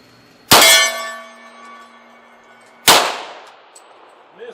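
Two loud ringing clangs of .40 S&W rounds fired from a 10mm pistol striking a steel target, each impact sharp and followed by a long metallic ring-out, heard alone and a couple of seconds apart.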